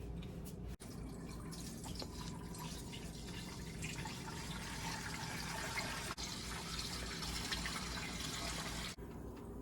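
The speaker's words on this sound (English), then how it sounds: "I got to add 2 to 3 inches of water in the bottom" Water runs steadily into the bottom of a pressure canner for canning chicken, a continuous close pouring and dripping rush with a few brief breaks, no voices.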